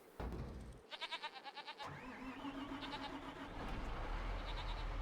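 Goats bleat in a farm setting in Farming Simulator 25, a run of quick wavering bleats up close followed by further calls, with low ambient farm hum beneath and no talking.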